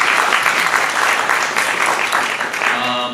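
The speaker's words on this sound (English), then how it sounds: "Let's give a round of applause for." A live audience at the close of a marketing show gives a loud, continuous round of applause that fills the space evenly throughout.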